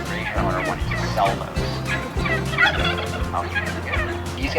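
Turkeys raised on a small farm gobble in repeated rattling bursts amid other fowl noises, loud and nearby, with background clatter and a faint voice under the calls.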